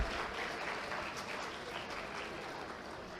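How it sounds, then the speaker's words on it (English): Audience applause for former deans at a medical college centenary gathering, dense continuous clapping from a seated crowd, fairly even and moderately loud throughout the short stretch. "a big round of applause to all the former deans who are here."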